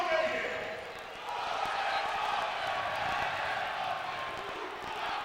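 Arena football crowd at a Columbus Wardogs AFL2 game cheering for a few United States Army soldiers, a steady broad roar filling the arena, swelling slightly after the first second and holding under a commentator's voice.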